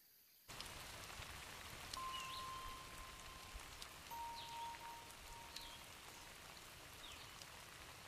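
Steady rain falls over drought-parched coastal land where shore crabs live, a dense even hiss that starts abruptly and continues throughout, with a few faint distant tones.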